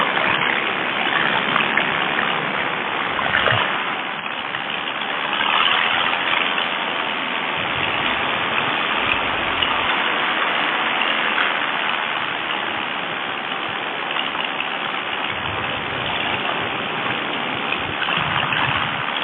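A paramotor's small engine and propeller run continuously in flight, giving a steady, loud buzzing roar mixed with rushing wind, with slight swells in throttle and no talk.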